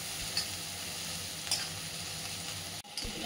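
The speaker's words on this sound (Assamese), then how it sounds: "এতিয়া ধুনীয়াকৈ বলক পিয়াজখিনি ভাজি লওঁ" Onions with spices fry in a pan, a soft, steady sizzle with a couple of brief stirring clinks and a short break near the end.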